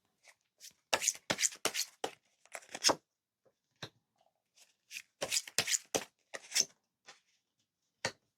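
Tarot cards are shuffled by hand in two bursts of quick, crisp riffling and flicking, close and fairly loud, separated by a pause with a few isolated card taps.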